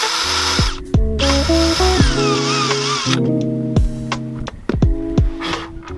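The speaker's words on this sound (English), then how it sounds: "drill through the fiberglass layer of protection and waterproofing" A power drill whirs in several bursts, starting and stopping with short pauses, its motor pitch shifting as it bites through a boat's fiberglass layer, close and loud.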